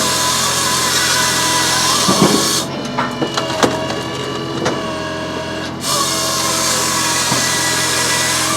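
A Japa 315 firewood processor works through a 36-foot log outdoors, its engine droning steadily while the saw bites in. Sharp woody cracks and knocks come from the cut, and the machine's tone shifts for a few seconds mid-cut.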